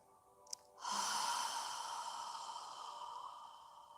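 Slow, audible breathing during a yoga session, a faint brief sniff followed by a long, soft, airy exhale that fades gradually, close and alone in a quiet room.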